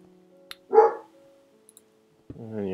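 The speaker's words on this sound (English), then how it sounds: "have to excuse the dogs barking." A dog barks once in a short burst in the middle distance, with a few faint clicks around it and a voice starting up at the end.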